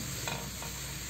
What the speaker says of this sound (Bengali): একটু ভেজে নিলাম মশলাটা শুকনো এই কড়াইটার মধ্যেই